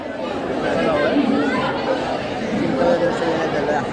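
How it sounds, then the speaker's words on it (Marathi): Dense crowd chatter fills a Ganpati darshan queue in Parel during the 2025 festival: many voices overlap into a steady, close babble with no single speaker standing out. "समोर जाम गर्दी आहे बाई"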